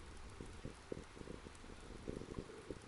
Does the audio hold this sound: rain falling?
yes